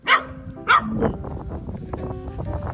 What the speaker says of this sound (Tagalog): May narinig akong tuta eh